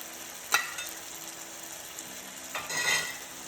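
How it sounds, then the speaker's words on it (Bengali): Chicken being sautéed and stirred in a pan in a Bengali-style dish that will get green chilies; a soft, steady sizzle runs throughout, with a couple of sharp scraping stirs, and no one speaks. "এখনো কষানো হচ্ছে, এবার একটু কাঁচা লঙ্কা দিয়ে দেবো।"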